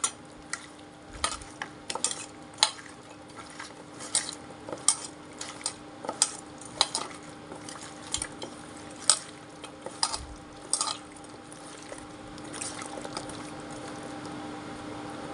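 Mustard oil marinade worked by hand in a bowl before cooking, giving repeated wet squelching and scraping clicks in an uneven rhythm, close and fairly soft over a steady background hum, with no talking.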